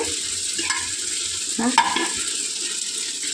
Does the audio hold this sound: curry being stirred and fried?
yes